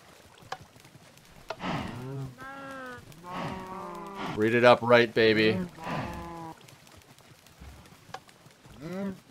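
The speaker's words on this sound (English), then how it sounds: "Stupid cow." A cow moos in the Minecraft video game: several drawn-out, rising and falling lowing calls, loud and close, with someone talking briefly near the end.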